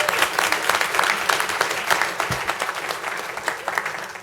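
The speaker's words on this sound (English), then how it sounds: "Let's give our kids a round of applause for us." A crowd claps steadily for several seconds, a dense burst of applause that holds at a fairly even level throughout.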